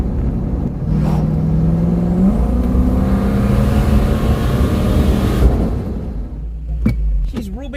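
A turbocharged Lexus LS400 accelerating round a right-hand bend, its engine note holding steady and rising slightly, loud and close inside the car before easing off near the end, with a voice speaking over it.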